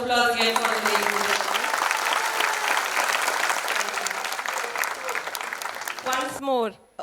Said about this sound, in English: Round of applause again for the ladies.